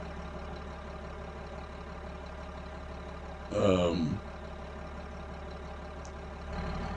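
A tractor engine idles in Farming Simulator 22 with a low, steady hum under a short burst of a voice speaking midway, fairly faint and constant throughout.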